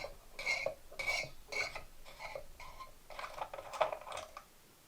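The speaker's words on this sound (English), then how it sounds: "Okay, so we're going to take these pressure screws off." Small metallic clicks and scrapes from a screwdriver backing out spring-loaded pressure screws on a CPU cooler during a Ryzen upgrade, in quiet irregular bursts at close range.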